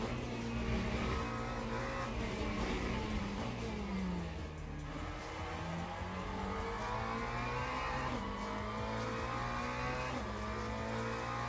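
A race car at full tilt in the Le Mans Ultimate sim, its engine droning loud and continuous with rising and falling pitch through gear changes, a slight dip near the middle before revving back up.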